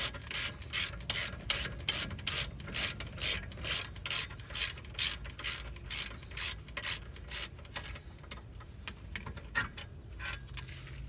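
A hand ratchet clicks rapidly and steadily while loosening the wheel hub bolts on a 2008 Dodge Nitro, its close, loud strokes repeating in a regular rhythm and turning faster and lighter near the end.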